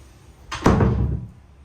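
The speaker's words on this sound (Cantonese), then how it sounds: "我哋順便閂埋房門。" A room door behind a wardrobe partition wall closes with a single dull thud that decays over about half a second, in an otherwise quiet indoor space.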